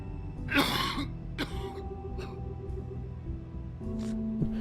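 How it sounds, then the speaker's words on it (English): A couple of harsh coughs and throat clearing from a character in the video game The Wolf Among Us, close and fairly loud, followed by quieter breathy sounds over a low steady background hum. "You start coughing"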